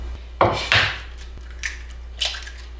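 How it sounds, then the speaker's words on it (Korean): Eggs and sugar being mixed by hand in a bowl for no-oven microwave muffin cupcakes, heard as a few close scraping and clinking strokes against the bowl, with quiet pauses between them and no talking. "처음에는 달걀하고 설탕을 넣고 이렇게 섞는 거지."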